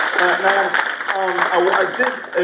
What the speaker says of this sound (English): One more round of applause because she's amazing